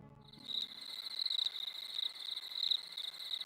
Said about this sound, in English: Crickets, I bet.